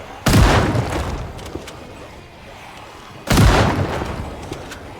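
Two heavy shotgun blasts in Project Zomboid, about three seconds apart, each a loud booming crack followed by a fading rumble and tail.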